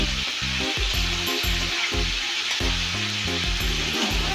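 Rohu fish frying in a pan with salt and turmeric, stirred as it cooks: a steady close sizzle under rhythmic background music with no talking.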